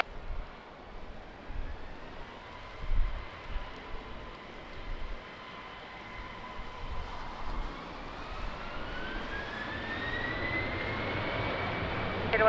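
An Air Portugal airliner takes off at Lisbon Airport in a crosswind, its engines rising from a low rumble to a swelling whine heard from a distance, with a rising tone through the second half.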